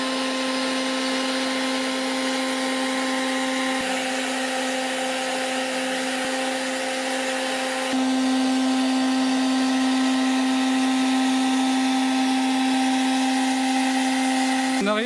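A CLEANMAXX automatic shirt and blouse ironer runs at 1650 watts, giving a steady, loud motor-and-fan drone with a constant hum throughout and a slight shift in tone partway through.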